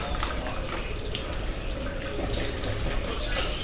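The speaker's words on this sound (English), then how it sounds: "I'm going to have to run a little bit of water on it" Tap water runs steadily over a frozen chicken bag to loosen it, a loud continuous splashing gush close by.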